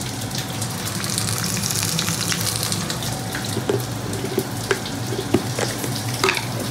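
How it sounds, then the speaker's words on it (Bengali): Potato pieces frying in a pan with salt and turmeric: a steady, close sizzle with occasional scraping and stirring clicks, running continuously. "আলুটাকে একটু ভালো করে ভেজে নেবো"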